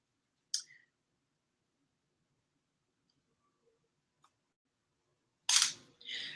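A camera shutter fires on a tripod with a two-second delayed release while artwork is photographed in a studio: a crisp click, near-silence with a faint tick, then a louder double mechanical clack, close and without talk.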